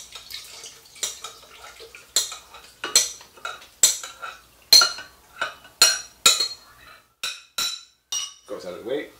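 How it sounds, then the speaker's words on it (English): Cherries tipped into a blender in a home kitchen, a series of sharp, close clinks and clatters that fall into an irregular rhythm, ending in a softer shuffle. "We have the cherries over here, so we're gonna dump them into the blender."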